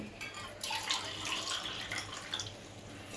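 Water pours steadily into a pot of rice for tomato rice, a soft, continuous splashing hiss, fairly close and moderately loud, with no voices.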